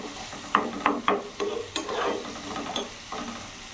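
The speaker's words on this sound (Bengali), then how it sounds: "ভালো করে নাড়াচাড়া করে কিছুক্ষণ ভেজে নেবো, যাতে পেঁয়াজের কাঁচা গন্ধটা ভাবটা চলে যায়।" Onions with green chilies being stirred and fried in a pan over a medium flame, a soft sizzle with a handful of distinct scraping stirs, close and fairly quiet.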